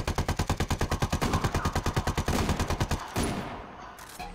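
Rapid automatic gunfire in the Ghost Recon Wildlands video game, a long evenly spaced burst of close, loud shots for about three seconds, followed by a softer echoing tail and a brief crackle.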